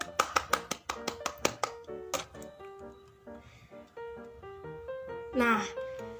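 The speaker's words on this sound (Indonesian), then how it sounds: "Ayo kita beri tepuk tangan kepada Putri." Children in a second-grade classroom clap together for a classmate, a burst of quick sharp claps that stops after about two seconds, followed by soft piano-like music and a brief rising flourish near the end.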